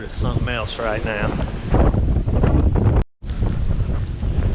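Strong storm wind buffets the microphone in a loud, steady roar outdoors near creeks being rebuilt, with a brief cutout partway through and a voice talking over the gusts early on.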